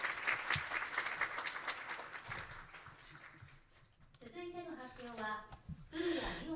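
Audience applause at a children's world peace summit, a dense patter of clapping for several seconds that fades before a single voice begins speaking over the hall.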